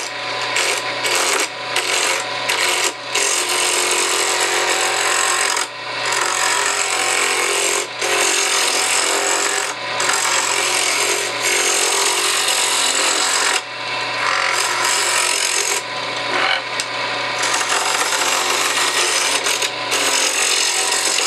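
Wood lathe turning a pen blank with a tailstock, a loud, close, continuous whirring roar with scraping tool contact, broken by several brief dips and pauses over about twenty seconds, no talking.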